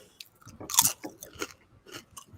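Crisp crunches and snaps of someone biting into a crunchy potato-chip-style snack, a few sharp bites followed by softer chewing, close and fairly quiet with no talk.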